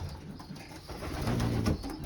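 Pigeons cooing inside a loft, a low throaty coo rising near the end over a soft, continuous background hiss and rustle, fairly close.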